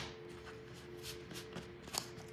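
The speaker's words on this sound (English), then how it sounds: "one more shake and a shuffle ought to do it" Tarot cards being shuffled by hand, a soft, quiet, close riffling with a few brief papery bursts, alone and without speech over a faint steady background hum.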